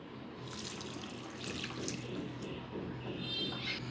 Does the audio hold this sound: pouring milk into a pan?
yes